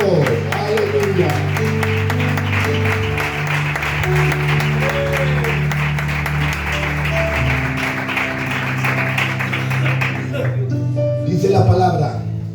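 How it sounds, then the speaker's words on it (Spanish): Sustained applause from a church congregation over music, clapping continuing steadily for several seconds before fading out near the end. "Aplaudan al Rey, por favor."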